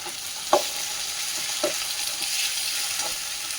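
Tomato, green chili, ginger and turmeric sizzle steadily in a hot pan, a continuous hiss with a few sharp pops and spatters as the ingredients hit the oil.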